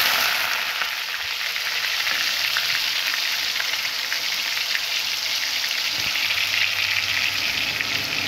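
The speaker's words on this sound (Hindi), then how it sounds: "तो मैं इसमें ये प्याज का पेस्ट जो है मैंने करा है इसमें डाल दूंगी।" Onion paste for egg curry fries in a pan with a steady, dense sizzle and faint crackle throughout, close and continuous, with no talking.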